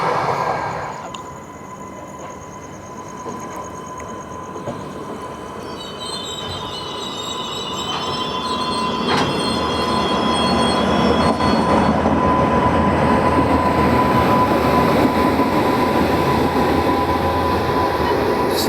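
The Amritsar Nanded Sachkhand Express running on the line, a loud steady rumble with high wheel squeal and rail noise that builds slightly over the length, no voices heard.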